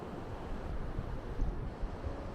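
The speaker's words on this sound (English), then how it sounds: "you can just hear that beautiful sea surf all day, all night" Sea surf on the beach at Playa La Barqueta in Chiriquí, Panama, a steady low rumbling wash of waves mixed with wind, fairly faint, constant and unbroken, with no voices.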